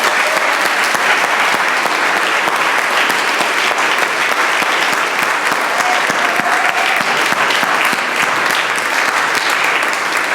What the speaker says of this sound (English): A huge round of applause and second thanks for all the performers tonight.